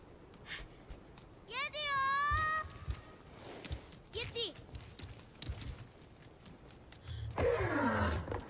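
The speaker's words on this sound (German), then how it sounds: "Ne, nix brüllen." Trico, the giant feathered beast of The Last Guardian, lets out a couple of short calls and growls amid game sounds, while a person talks excitedly over the scene.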